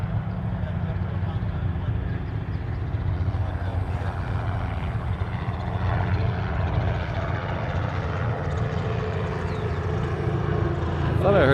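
A plane going around at Honolulu airport produces a steady, loud engine roar that holds for the whole stretch and swells slightly near the end, with some talk underneath.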